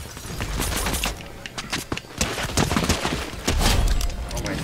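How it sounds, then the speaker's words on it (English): Rapid bursts of gunfire in the video game Fortnite crackle and pop continuously in a dense, chaotic barrage, loud and close, with heavier booms mixed in. "I can already hear gunshots."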